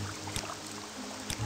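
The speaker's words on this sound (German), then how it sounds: "Ja, okay, der Regen gehört zu den Effekten." Steady hissing rain from the video game Morrowind washes over everything, with a couple of soft thuds breaking through.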